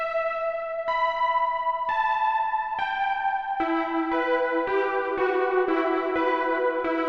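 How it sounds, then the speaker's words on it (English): Fluttering pulse-width-modulated synth lead from a U-He Repro 5 soft synth in a high-energy synthwave outrun track, playing a steady sequence of sustained bright notes that step upward and grow busier, loud and alone with no talk. "Kind of a fluttering PWM sound."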